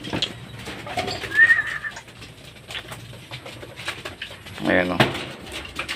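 Racing pigeons coo softly at the loft as they return from club training, with low murmuring calls and rustling while a person speaks in Filipino nearby.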